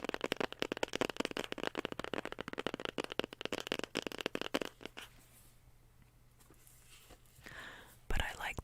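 Star Spinner tarot cards are shuffled up close in a quiet setting, a rapid run of crisp riffling snaps for several seconds, then a pause and a few softer card sounds, with faint whispered speech.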